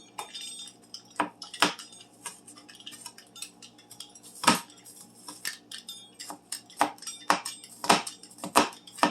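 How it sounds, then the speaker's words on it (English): A pizza cutter mincing food on a hard board in a home kitchen gives a series of sharp, irregular clicks and clinks, close by and fairly quiet, with no talk. "Then we're going to dice it up even smaller into a mince with a pizza cutter."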